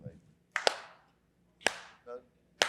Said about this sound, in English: I'd like you just to start clapping like this.